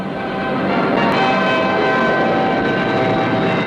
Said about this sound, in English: Notice the effect of reverse thrust from the 4 Rolls-Royce Avon jets as the huge airliner